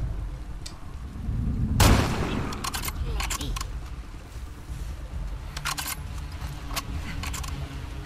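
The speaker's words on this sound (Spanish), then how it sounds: "Lo raro es que no haya escuchado los disparos, el gilipollas de la lancha." Gunfire in The Last of Us Part II: one heavy, loud shot or blast near the start, then sharp clicks and rattles over a low rumbling ambience.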